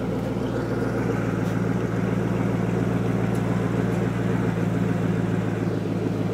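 A car engine with its exhaust idles nearby, giving a steady, even drone with a deep low rumble that holds at a constant level throughout.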